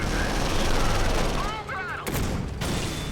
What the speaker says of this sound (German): Beginn des Beschusses.